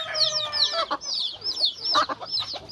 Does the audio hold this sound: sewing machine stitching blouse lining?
no